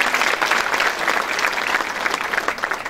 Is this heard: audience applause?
yes